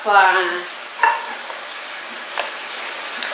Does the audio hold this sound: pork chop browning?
yes